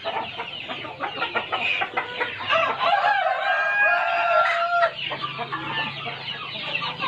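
Village chickens cluck busily at a chicken farm while a rooster lets out a long crow midway, the flock's chatter continuing loud and close throughout.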